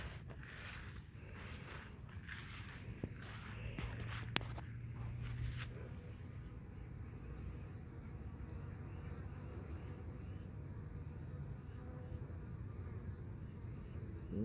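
Steady, low insect buzzing from many honeybees bearding on the outside of a hive close by, a continuous drone with a few soft footsteps and faint clicks.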